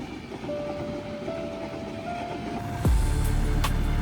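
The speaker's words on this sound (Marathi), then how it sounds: "आणि अजून एक ट्रेन येते आता" A train rumbles along, growing suddenly louder and heavier as it passes close by, with a steady low roar.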